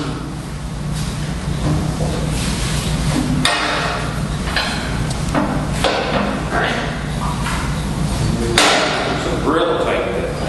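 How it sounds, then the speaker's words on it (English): A wood lathe making shearing cuts on the bottom of a turned piece: a steady motor hum under repeated scraping and knocking bursts from the tool against spinning wood, close and fairly loud, with a voice talking throughout. "we're going to make the shearing cuts on the bottom before we go inside"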